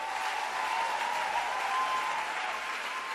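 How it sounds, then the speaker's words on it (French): Church congregation applauding, a steady wash of clapping from many hands filling the room at moderate volume, with no talk over it. "Oh, acclame le Seigneur."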